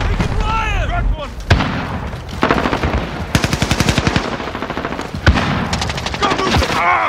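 Gunfire in the video game Call of Duty: Modern Warfare: loud, rapid automatic bursts and single sharp shots crackle close by, mixed with shouted in-game voices.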